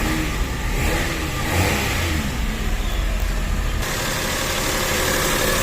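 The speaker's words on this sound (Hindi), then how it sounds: "सारे काम करने के बाद कार स्टार्ट एट लास्ट" A 2010 Toyota Vitz engine runs steadily after maintenance, a continuous mid-low hum with a slight rise in revs partway through, close and alone with no talk.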